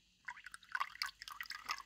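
Fritz Turbo Start 900 bacteria liquid poured into the rear box of a fish tank, producing a quick run of small drips and trickles that sound close and fairly quiet.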